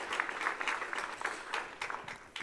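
Church youth audience at a devotional panel claps in a brief burst of scattered, moderately loud applause, with uneven individual claps standing out throughout.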